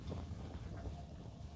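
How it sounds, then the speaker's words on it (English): Wind blusters outdoors on a frozen lake, buffeting the microphone with a low, rough rumble and gusty roar for a brief moment, with no talk. "it's windy out right now"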